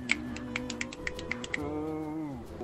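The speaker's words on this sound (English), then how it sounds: "You get snaps with both hands from me." Finger snaps made with both hands, about nine sharp, crisp clicks in a loose, irregular rhythm over roughly a second and a half, close and clear above a faint background of music or ambience.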